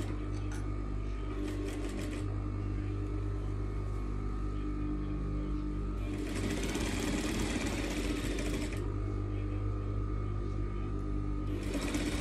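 A sewing machine stitches a small quilted mat in bursts of rapid, close clatter over a steady motor hum, with pauses between runs.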